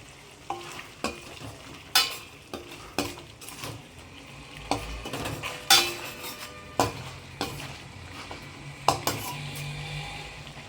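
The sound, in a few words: stirring eggs into egg thokku in a pan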